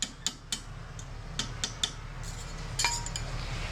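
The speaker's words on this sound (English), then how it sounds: "just kind of hammer back on the side that was twisted" Sharp metallic clinks ring out as a metal tension-fit container is hammered back into shape on a stake and the edge of a stump, striking in irregular clusters with short pauses between blows.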